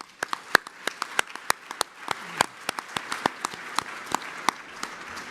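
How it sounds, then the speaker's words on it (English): An audience at an awards gala claps in a steady round of applause, with many sharp individual claps spread through a moderate, sustained patter and no voices. "Another round of applause."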